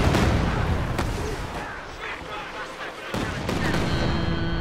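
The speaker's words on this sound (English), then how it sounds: "here comes the Katyusha barrage though" Katyusha rocket artillery barrage in a WWII strategy game, a dense rumbling roar of overlapping launches and impacts with sharp cracks near the start and end, dipping quieter in the middle, with no speech.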